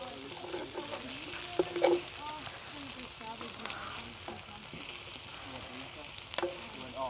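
Burgers sizzle steadily in a chef's pan inside a Carthago motorhome, a continuous close frying hiss with a few louder spatters and faint clinks.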